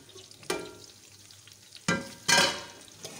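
Onions frying in a pan for Delhi-style pulao, a low steady sizzle broken by a few sharp scraping stirs, with louder bursts of crackling toward the end and no talking.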